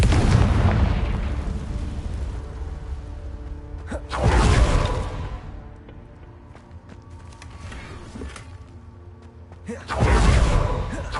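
In the Hogwarts Legacy video game, a Confringo fire spell bursts in deep booming explosions, a loud one near the start, another at about four seconds and a third near the end, over a rumbling game soundscape.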